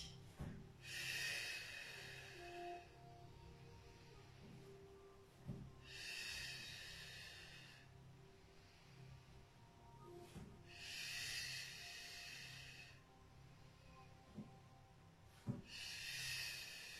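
Slow, deep breaths are drawn in and pushed out during a gentle Swiss ball exercise routine, four long airy hissing breaths spaced evenly, close and soft.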